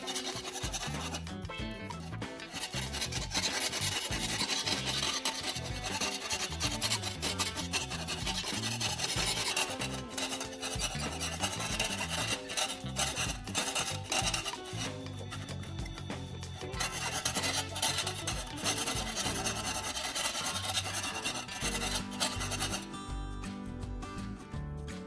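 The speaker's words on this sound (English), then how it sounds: "I use a metal file to smooth the freshly cut edges." A metal file rasps back and forth along the freshly cut edges of a tin can, a dense, continuous scraping in quick rhythmic strokes, close and steady throughout with only brief pauses.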